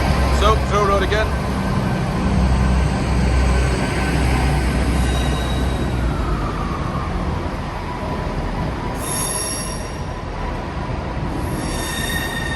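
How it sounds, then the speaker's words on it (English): Class 158 diesel multiple unit passenger train, a former Metro unit, at a rural station on the line to Carlisle, with wheels squealing and a steady rumble nearby, and someone talking over it. "Now 158901 is a former Metro 158."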